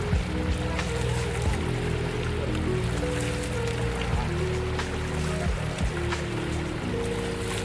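Hundru river, a hill stream that drops to form Hundru Falls, flowing in a continuous broadband rush, with steady tonal hum layered underneath and no speech.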